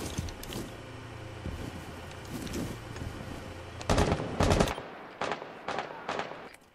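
Rapid bursts of gunfire in Rainbow Six Siege, automatic weapon fire in short volleys with a few louder close shots toward the end.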